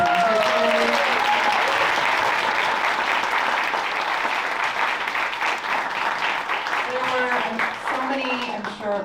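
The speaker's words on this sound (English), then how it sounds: "let's give one big round of applause for everyone that presented today." An audience gives sustained, dense applause at a startup demo day event, loud and continuous for around nine seconds, with a few voices and cheers mixed in at the start and end.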